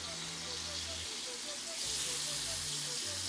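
Pork bacon sizzles in a pan on a home stovetop with a steady, soft frying hiss that swells slightly louder partway through, and there is no talk over it.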